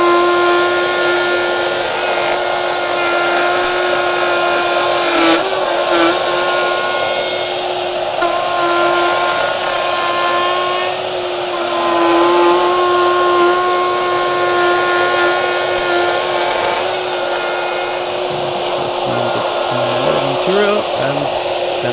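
Router bit cutting 12 mm deep pockets while vacuum extraction runs, giving a loud, continuous whining drone that stays steady throughout.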